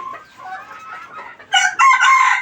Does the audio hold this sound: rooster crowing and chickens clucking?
yes